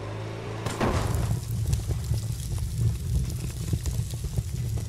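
A limousine in the video game Brick Rigs revs and accelerates as a steady low engine drone with rough rumbling texture, loud and continuous after a brief quieter start.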